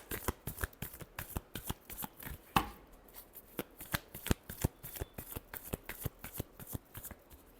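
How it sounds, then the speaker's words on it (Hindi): A deck of tarot cards is shuffled by hand in quick, crisp bursts of snapping card clicks, close and fairly quiet, with no talking. "Last shuffle."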